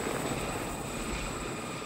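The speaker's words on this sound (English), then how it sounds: "these choppers were designed with heli-skiing in mind" A helicopter flying in the mountains of Kamchatka gives off a loud, steady rotor and engine roar that fills the whole short stretch, with no voices over it.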